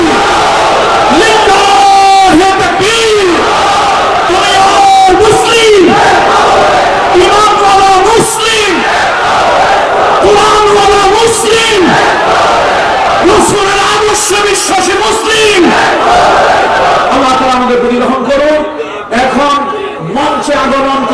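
A large crowd repeatedly roars the takbir chant in unison, loud rhythmic bursts of massed voices answering a leader over and over.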